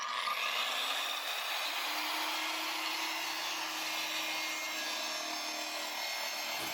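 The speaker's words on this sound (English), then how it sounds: "the grinder to the test, cutting some plastic, some PVC plastic, and it cut up the thing right away" A DeWalt DWE490 9-inch angle grinder whines steadily while cutting through PVC plastic pipe, a close, sustained high-pitched grinding that cuts off abruptly at the end, with no talking.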